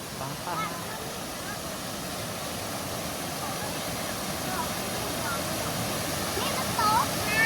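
A waterfall beside a garden gives a steady broadband rush of falling water throughout, with a few faint bird-like calls on top.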